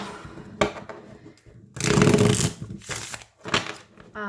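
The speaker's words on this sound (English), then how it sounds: "They actually shuffle much better now." A trimmed tarot deck is shuffled close by, a long riffling burst flanked by shorter rustles and flicks, with brief quiet gaps between.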